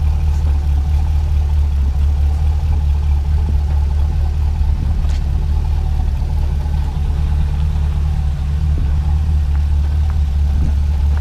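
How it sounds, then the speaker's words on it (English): A Plymouth rat rod's engine runs steadily at a low idle-like rumble while the car backs up slowly, a constant close drone with no talk over it. "Engine's running super smooth."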